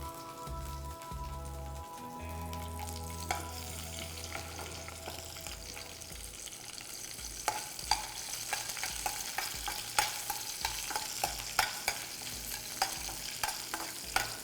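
Green chillies, cumin and curry leaves frying in hot oil give a steady close sizzle with scattered crackles and pops, rising toward the end, and a stirring scrape now and then, with no one speaking.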